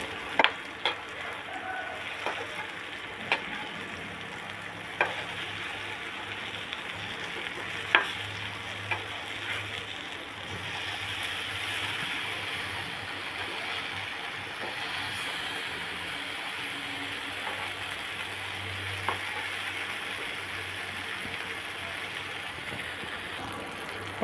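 Yam slices fry in sesame oil with a steady, close sizzle and occasional stirring clicks and scrapes throughout, with no voices.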